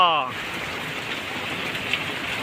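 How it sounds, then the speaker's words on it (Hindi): Steady rain falls in a continuous hiss, loud and close, after a brief tonal sound at the start, with no talking over it. "वो इतनी बारिश है मेरा बालुआ।"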